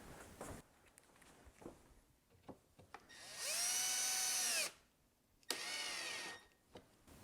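Power drill driving longer screws into an Altec Valencia 846B speaker cabinet, two sustained whirring runs that wind down in pitch, separated by quiet handling clicks and knocks, close and alone.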